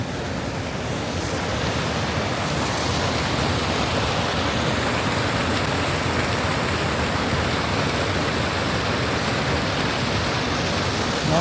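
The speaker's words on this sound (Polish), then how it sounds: "rodzaj wodospadu to jest" Small waterfall on the Jeziorka river rushing in a steady, dense broadband roar, close and constant throughout with no voices.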